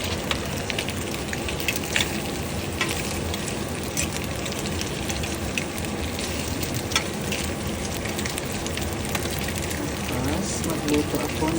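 Bacon omelette frying in a pan, a loud, dense crackle and sizzle running continuously with sharp pops, up close, with speech faintly underneath.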